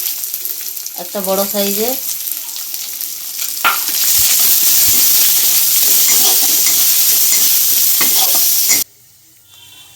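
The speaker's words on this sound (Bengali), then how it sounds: "রসুনটা ভাজা হয়ে গেছে, এবার পেঁয়াজ দিচ্ছি" Chopped onion tipped into hot oil already frying garlic, bursting into a loud, steady sizzle that holds for several seconds, with brief stirring and a short voice at the start before it cuts off near the end.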